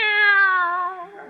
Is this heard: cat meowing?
yes